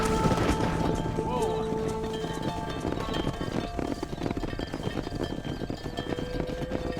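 Horses' hooves clatter in the Red Dead Redemption video game during a cattle-herding ride, a busy running clip-clop under game music, with a whinny and voices talking over the hoofbeats.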